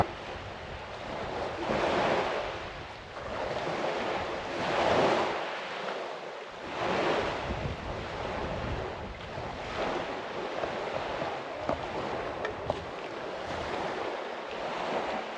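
Ocean waves wash in over rocks and cover rock arches at high tide on a coast, swelling and receding in slow surges every few seconds, with wind buffeting the microphone.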